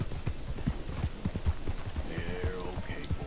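A horse's hooves clip-clop in a steady, even rhythm of dull thuds while riding in Red Dead Redemption 2, set against a continuous game ambience with a faint tonal sound drifting in near the end.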